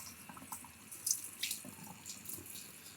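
Hot water running from a tap into a sink, a steady quiet splashing stream with a few brief higher spatters, no voices.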